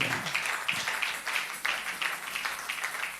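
A church congregation claps and cheers in praise of the Lord, a steady dense wash of applause with scattered voices and shouts filling the hall throughout.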